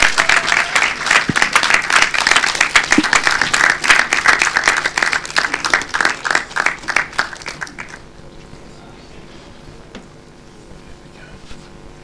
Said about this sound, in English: can we get a round of applause for Orlando Bryan, Annabelle Bates, Sheridan Myers, and Mark Price?